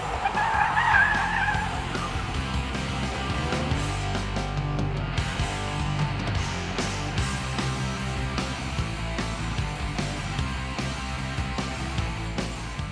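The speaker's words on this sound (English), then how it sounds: "you can actually drift this SUV like a hardcore performance car" A rear-wheel-drive supercharged V6 SUV with 250 kilowatts drifts at an outdoor 4x4 show, its tyres skidding and squealing continuously over a loud engine drone, close and sustained.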